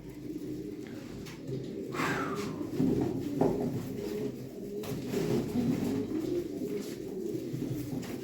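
Smoky-coloured pigeons in a loft coo in low, continuous rolling calls, close and steady, with a brief higher chirp partway through.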